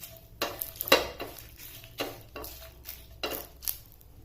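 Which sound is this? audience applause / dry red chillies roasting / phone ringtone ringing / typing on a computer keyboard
dry red chillies roasting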